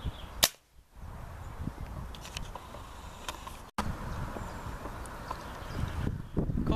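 A Weihrauch HW77k underlever air rifle fires one sharp, close crack near the start. Quiet outdoor ambience follows, broken by a few small clicks.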